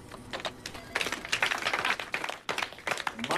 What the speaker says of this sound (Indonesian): ia mendapatkan tepuk tangan dari teman-temannya dan juga atasannya bernama Ricky